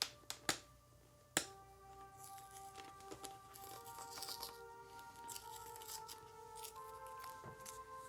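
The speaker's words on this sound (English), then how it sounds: "the sticker is going to have to go" Sticker peeled off an LS2 Advant X forged carbon motorcycle helmet: a few sharp clicks, then a faint, crackly tearing and crinkling that runs on quietly up close.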